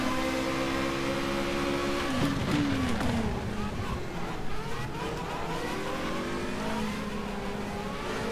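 Formula Renault 3.5 race car engine in rFactor 2, a steady sustained drone that shifts pitch as it revs through a corner at Silverstone, with a voice talking over it throughout.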